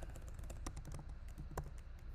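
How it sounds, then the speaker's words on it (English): A web address is typed on a computer keyboard, producing a quick run of light, close key clicks in uneven bursts over a faint low hum, with no talking. "I'm gonna just type it in here at the very top."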